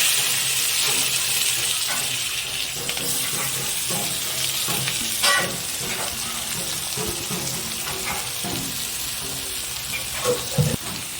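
Onion sizzles in hot oil with black cumin for a Bhola fish curry, a constant close frying hiss with occasional soft stirring knocks and no talking.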